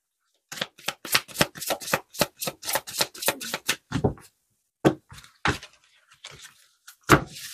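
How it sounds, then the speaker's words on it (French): Tarot cards are shuffled in a rapid run of crisp riffling flicks, then slowed to a few separate slaps and slides as cards are drawn and laid down, close and clear with no talking. "je tire les cartes."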